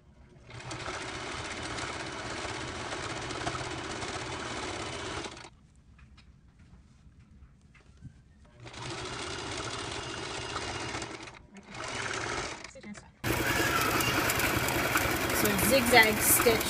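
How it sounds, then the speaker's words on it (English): A sewing machine runs a straight stitch along the legs of pants made from a towel, whirring in several bursts separated by pauses, with a louder, denser stretch at the end. "we're using a standard A stitch first"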